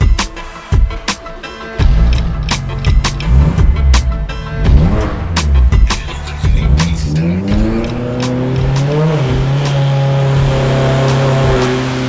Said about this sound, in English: I gotta fire up the car on the dyno and do some engine testing.